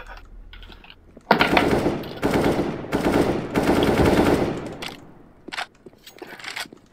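Rapid video-game gunfire rattles in loud sustained bursts, several long automatic volleys separated by brief gaps, then a few shorter shots near the end, with a voice faintly audible at the start.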